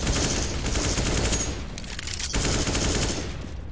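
Rapid automatic gunfire from a round of CS:GO, loud sustained bursts of shots with a short pause near the middle before the firing resumes, no voices over it.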